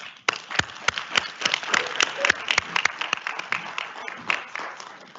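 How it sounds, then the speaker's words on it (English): Applause from a small crowd at a university master's hooding ceremony, with irregular sharp claps building to a steady patter and thinning out near the end. "Let's give them a big round of applause"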